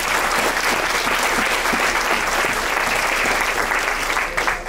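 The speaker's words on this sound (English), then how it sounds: "Clap it up!" A crowd at a fraternity and sorority probate show claps loudly and steadily for several seconds before the applause starts to fade at the end.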